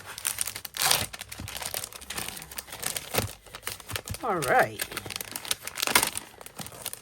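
Stiff waxy paper crinkles and crumples in loud bursts near the microphone, with a person speaking briefly between the rustling.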